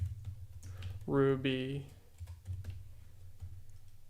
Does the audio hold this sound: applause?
no